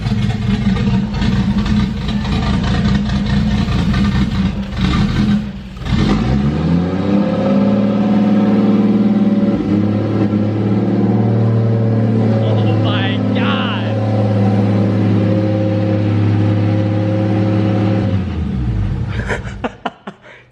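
Toyota 1JZ engine swapped into a Nissan 240sx at its first start, a loud, close idle with blips of revving and turbo spool, droning steadily before cutting off, with people talking over it.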